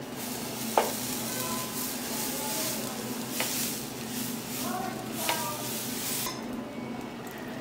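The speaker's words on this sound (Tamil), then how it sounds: "இப்போ இந்த மாவே நம்ம தோசை ஊற்றிக்கலாம்" Dosa batter spread onto a hot pan in a home kitchen, a steady low sizzle with a few light scrapes and clinks, fairly quiet, with a voice speaking over parts of it.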